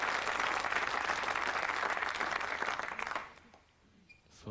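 An audience at a 1990 Thames snooker classic applauds a shot, with steady dense clapping that carries on for about three seconds and then quickly fades to quiet.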